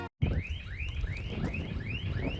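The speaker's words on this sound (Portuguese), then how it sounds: "disparou um alarme só porque eu ia gravar" Car alarm wailing outdoors, a repeating rising siren sweep cycling about every quarter second, steady and moderately loud against background noise.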